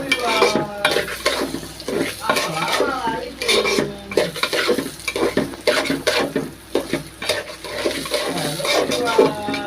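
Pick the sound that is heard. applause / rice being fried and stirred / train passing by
rice being fried and stirred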